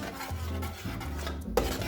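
A spoon stirs orange chicken sauce in a pot after it comes to a boil, making soft scraping and swirling sounds with a single sharp clink near the end.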